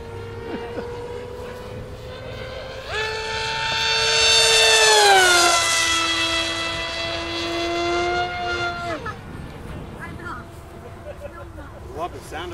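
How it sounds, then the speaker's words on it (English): A loud engine drone with a rising then falling pitch, building as a small propeller plane approaches overhead and fading away after several seconds. "Love the sound of that plane."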